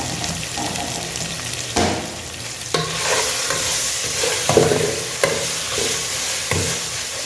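Ghee poured over mutton biryani in a hot pot, giving a steady close sizzle with stirring and scraping clatter and a few sharper bursts, no voices.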